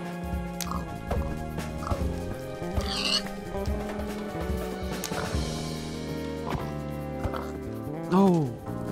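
A Minecraft pig oinks repeatedly in short grunts, mixed with choppy in-game hitting sounds and a voice talking over it, and a louder squeal near the end.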